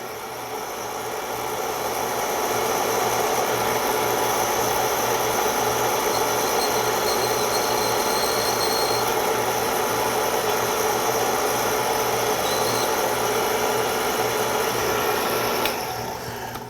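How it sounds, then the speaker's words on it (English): A motorized case prep center chamfers and deburrs brass cartridge cases on a budget reloading bench, giving a steady, continuous whirring motor drone with a faint grinding edge, close by and with no talking. "Then I'll run it over to the case prep center here."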